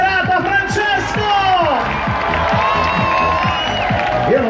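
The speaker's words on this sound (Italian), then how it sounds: "Facciamo un bel applauso al presidente del comitato organizzativo di questa bellissima serata, Francesco!" Crowd at an evening event in Arconate, Italy, cheering and clapping after an introduction, with a loud steady wash of applause and whoops, strong rhythmic music beats underneath and voices mixed in.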